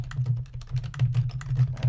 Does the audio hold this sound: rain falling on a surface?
no